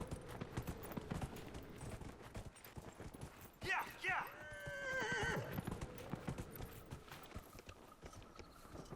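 A horse neighs and its hooves clip-clop in the video game Dragon Age: Inquisition, with a clear whinny midway over steady hoof beats under a person talking.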